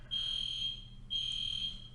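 A fire alarm beeps in two long, steady high-pitched tones with a short gap between them, heard alone at moderate distance.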